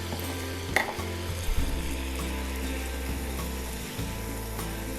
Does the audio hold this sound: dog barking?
no